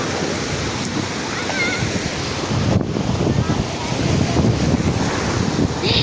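Steady wash of waves breaking on Diveagar beach, Maharashtra, with heavy wind buffeting the microphone throughout, loud and continuous.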